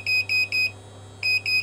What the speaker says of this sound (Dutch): Alarm gaat af.